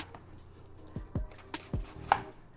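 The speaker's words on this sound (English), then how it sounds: "we chopping up our onion, our green and red peppers" A knife chops garlic, scotch bonnets, onion, and green and red peppers on a board, a few spaced, close thuds with a sharper knock at the end, no voices.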